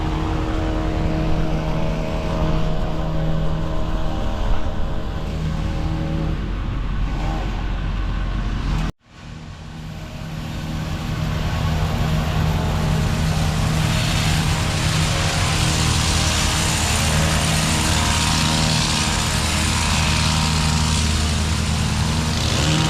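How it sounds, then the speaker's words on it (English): A hedge trimmer's small engine drones loudly and steadily up close while cutting a hedge, cuts out briefly, then restarts and keeps buzzing at a constant pitch, with no talking. "So we're gonna trim up to the post."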